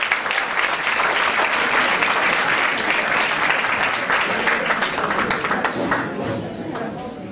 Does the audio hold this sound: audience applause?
yes